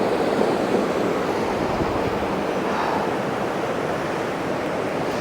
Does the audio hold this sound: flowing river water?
yes